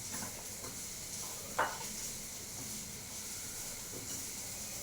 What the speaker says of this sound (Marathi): तर कांदा टाकलाय मी यात, तो थोडासा परतून घेणार आहे.